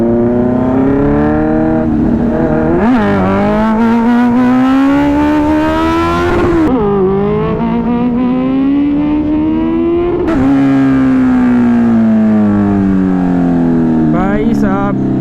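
A Kawasaki Z900 superbike engine revs hard during a wheelie, its loud pitch climbing and falling in several long surges with gear-shift dips, close and continuous, with voices faintly underneath.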